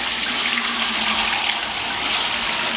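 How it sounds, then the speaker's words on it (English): Fresh milk from a miniature Jersey cow pours steadily through a filter disc in a strainer, a continuous close splashing, hissing liquid stream with no talk. "then I'm gonna pour the milk through there"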